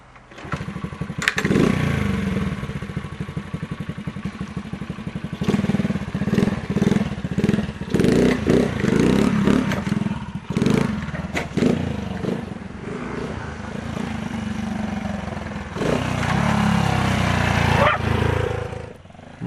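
A homemade Honda Super Cub trials motorcycle with a centrifugal clutch and swapped cam being ridden nearby, its small engine revving and popping in repeated bursts, rising and dropping as the throttle opens and closes.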